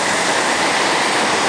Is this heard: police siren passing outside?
no